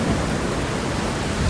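Heavy, steady rain pours down with deep thunder rumbling underneath in a cartoon story scene of a poor family's riverside home, a dense continuous roar with no voices.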